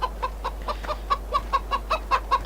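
Chickens in Farming Simulator 2013 cluck in a steady series of short, clear calls, about a dozen within a few seconds, close and loud with no talking.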